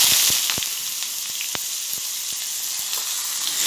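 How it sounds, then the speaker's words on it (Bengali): Finely chopped onion hits hot oil and sizzles loudly with a steady hiss, dotted with scattered pops and crackles throughout. "পেঁয়াজ কুচি করে রেখেছিলাম, পেঁয়াজটা কুচি করে রেখেছিলাম দিয়ে দিচ্ছি।"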